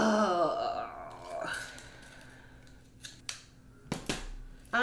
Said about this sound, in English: What I'm gonna do now is trim any rot that I see.